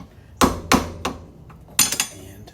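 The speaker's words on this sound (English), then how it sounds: "using a hammer" Hammer blows on a wheel hub bearing of a 2005 Honda Civic EX: three sharp metallic strikes in quick succession, a pause, then two more close, loud hits.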